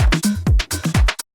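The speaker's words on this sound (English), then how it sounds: "So a really standard house loop" Short house drum loop with a punchy kick and an offbeat hi-hat set low in the mix, playing alone in a tight, bouncy pattern.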